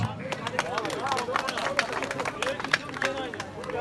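Audience applause at an outdoor village award ceremony after a local football final, dense clapping from a crowd mixed with chatter and hubbub, steady and fairly close throughout.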